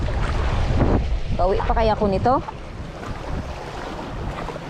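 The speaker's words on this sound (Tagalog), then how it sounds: "Lakas na ng hangin mga katangay." Strong wind blowing at sea from a boat, a steady roar of wind buffeting the microphone throughout, with someone talking briefly over it.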